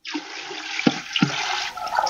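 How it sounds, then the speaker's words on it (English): Water poured into an electric pressure canner, a continuous splashing stream with two brief knocks partway through, close and moderately loud. "we're going to pour 2 more quarts of water."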